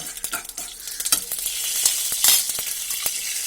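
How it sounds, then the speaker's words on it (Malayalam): Mustard seeds and fenugreek sizzle and crackle in hot coconut oil, with sharp popping bursts over a steady hiss and some stirring, close and loud with no talking. "ഇപ്പൊ കടുക് പൊട്ടി വരുമ്പോ നമുക്ക് ഉലുവ ഇട്ട് കൊടുക്കാം"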